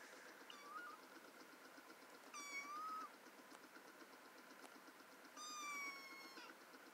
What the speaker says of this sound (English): That one loves to meow a lot.